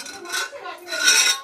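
Dishes and utensils being scrubbed and clattered in a home kitchen, metal and crockery clinking in two bursts of scraping and knocking, fairly close, with no talk.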